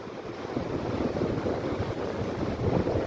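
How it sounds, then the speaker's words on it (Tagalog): Ocean waves wash steadily onto a beach, a continuous broadband rush of surf mixed with wind buffeting the microphone. "Parang natakot yung alon kay Nanin."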